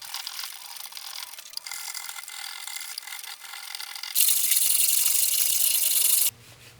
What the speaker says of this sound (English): there's nothing like scraping in the surface to match that reference